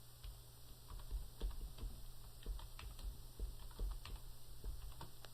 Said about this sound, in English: When I get it typed in, I'll press Enter.